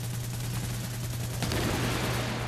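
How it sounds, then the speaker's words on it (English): Continuous gunfire in the video game The Division, a dense burst of rapid shots with a low rumble underneath, loud and steady for a couple of seconds with no talk. "I don't get why everyone doesn't just rush out as soon as they hear gunfire."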